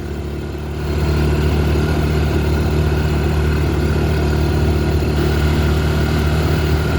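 Honda 300ex ATV engine running steadily and close, its low droning note swelling slightly after the first second and holding level through a gear shift, with no voices.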